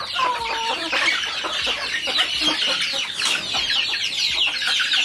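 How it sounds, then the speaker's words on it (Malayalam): Chickens clucking and squawking in a noisy, agitated flock, dense overlapping calls close by with no talking. "കോഴികൾ ഇവിടെ തല്ലിപ്പൊളിക്കുന്നുണ്ട്."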